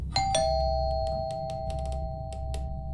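Doorbell ringing inside a house in the horror video game Fears to Fathom: two bright chimes in quick succession, then a long sustained ring, close and clear over a low background hum.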